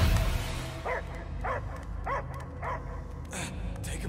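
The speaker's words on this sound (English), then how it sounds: "I hear only barking" A dog barks in a short series of yips and bow-wows inside the Guardians of the Galaxy video game, the calls evenly spaced and moderately near over a low, busy game soundscape.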